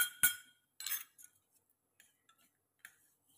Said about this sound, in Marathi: हे पूर्ण मिक्स करून घ्यायचं